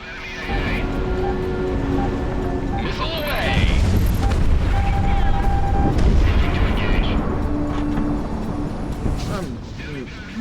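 Missile launch and explosion in the jet combat video game Project Wingman, a loud sustained roar with booming bursts and whooshing sweeps, heard under a continuous voice talking over the action.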